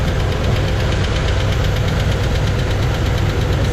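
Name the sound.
Chevy Malibu engine running with tapping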